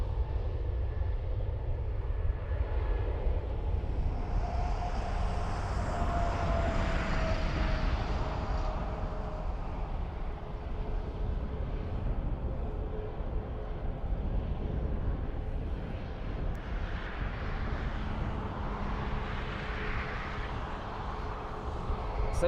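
A Ryanair airliner taking off at Dublin Airport, bound for Tenerife, makes a steady, moderately distant engine rumble that persists with a slowly shifting tone, under wind noise.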